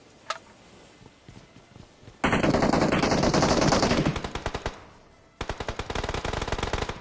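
Video game gunfire from a SCAR-L rifle in a battle royale match: a single shot, then a loud sustained automatic burst, a brief pause and another rapid burst, close and dominant with no talk.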